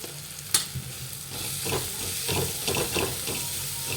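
Spices with garam masala fry in a pan for a boiled-egg dish: a steady sizzle with stirring, scraping clatter and one sharp knock near the start.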